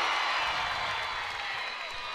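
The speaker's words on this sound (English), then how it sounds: "And you can hear the crowd." Arena crowd at a college gymnastics meet, Arkansas Razorbacks against Auburn, roaring steadily through a floor routine, a continuous loud wash of cheering and whoops with no breaks.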